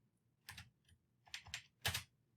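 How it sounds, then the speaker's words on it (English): A computer keyboard is tapped while code is typed, giving a few quiet, close keystrokes in short irregular clusters against near silence. "notice the IntelliSense bringing up everything as I'm typing"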